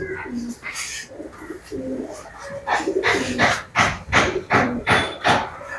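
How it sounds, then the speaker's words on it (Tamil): A tournament racing pigeon coos in a loft, a series of close, low, throaty coos that grow louder and more regular toward the end, with a voice talking early on. "ഈ പ്രാവശ്യം ടൂർണമെന്റ് പറപ്പിച്ച പ്രാവാണ് നമ്മൾ കാണിച്ചു തരുന്നത്"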